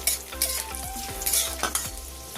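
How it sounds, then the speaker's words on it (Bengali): Cashews and raisins sizzling in hot ghee while a spoon scrapes and stirs the pan in quick repeated strokes. "এই কাজু কিচমিচ ঘির মধ্যে একটু ভেজে নেবো"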